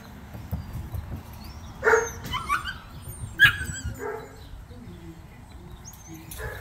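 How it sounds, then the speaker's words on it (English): Dogs at an agility training session let out a few sharp barks and yips from some distance, scattered over steady outdoor background noise, with occasional bird chirps. "There are a bunch of agility dogs."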